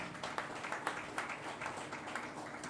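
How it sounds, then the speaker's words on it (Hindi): A church congregation claps together during a sermon, a steady, fairly faint patter of many hands with slightly stronger beats sprinkled through, no speech over it. "जोर से ताली बजा"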